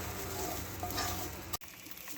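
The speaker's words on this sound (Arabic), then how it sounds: "تنديوه وتنجيبوه في الزيت." Raisins frying in oil in a pan, giving a steady busy sizzle and crackle at close range that cuts off sharply near the end, leaving a quieter hiss.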